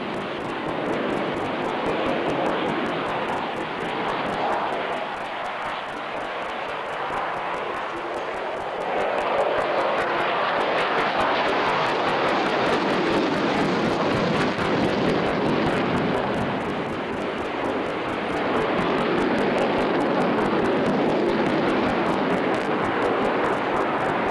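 Eurofighter Typhoon with twin EJ200 turbofans taking off and pulling into a steep climb at the 1998 Farnborough International air show: a loud, sustained broadband jet roar fills the whole stretch, swelling slightly as it goes, with a voice talking over it.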